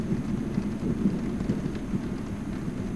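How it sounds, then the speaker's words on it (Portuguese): Stormy weather with steady rain and low rumbling thunder, a dense continuous wash of noise without distinct claps, moderately loud and with no voices. "Essa tempestade parece estar ficando bem... agressiva, não acha?"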